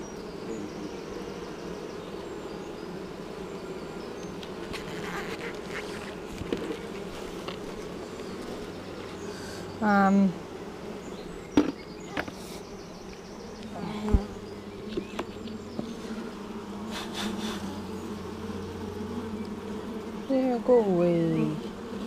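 During a spring hive inspection, honey bees keep up a continuous buzzing drone throughout, with occasional handling knocks and brief bird-like chirps over it.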